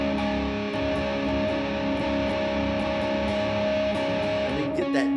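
Distorted electric guitar chord strummed on four strings, jangly and sustained, ringing loud and steady with a fresh strum near the end, no talk over it.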